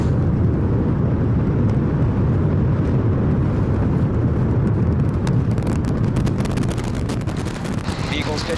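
Thunderous roar of a SpaceX Super Heavy booster and Starship lifting off the launch pad, a dense continuous low rumble with crackling bursts growing toward the end, steady and loud throughout.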